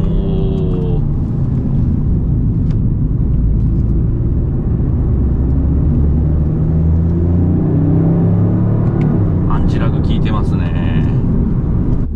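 A Lexus LBX Morizo RR is driven on a race track without downshifting, its engine a steady, heavy rumble under the car's cabin noise, with people talking over it toward the end.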